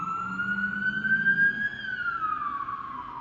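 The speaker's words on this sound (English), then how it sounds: "police car literally just lit up right underneath my bedroom window" A police car siren wails, rising and falling in pitch, loud and close below a window, sweeping steadily with a low engine rumble beneath it.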